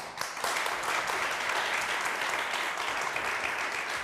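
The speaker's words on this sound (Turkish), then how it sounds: "Önce Berna Hanım'a bir alkış." Studio audience applause on the Turkish word game show Kelime Oyunu, a dense steady wash of clapping that holds loud and even for the full four seconds, with no talking over it.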